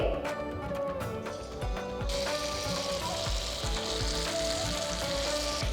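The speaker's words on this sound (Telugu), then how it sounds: "కొద్ది కొద్దిగా తీసుకొని జాగ్రత్తగా నూనెలో వేసుకోండి" Punugulu batter dropped into hot oil and frying, a dense, continuous sizzle and bubbling with faint periodic clicks and taps, up close, with a voice speaking lightly underneath.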